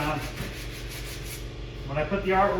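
Quiet, steady rubbing of sandpaper easing a bevel onto the edge of a Tapper arcade cabinet panel during a restoration, a continuous soft rasp that grows slightly louder near the end.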